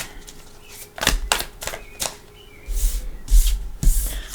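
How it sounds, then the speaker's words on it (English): A deck of tarot cards shuffled by hand at close range, a run of sharp, irregular clicks and snapping bursts of cards against each other, with quieter rustling between, and no talking. "I'm going to shuffle for your cards versus pulling off the deck"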